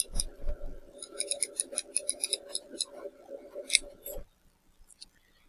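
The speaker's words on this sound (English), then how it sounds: "Here we have the aperture ring sound." A Pentax FA 31mm lens aperture ring turning, giving a run of small, crisp mechanical clicks in a quick, even rhythm at close range, stopping abruptly before a short quiet tail.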